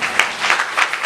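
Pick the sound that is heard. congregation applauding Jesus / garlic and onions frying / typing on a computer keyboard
congregation applauding Jesus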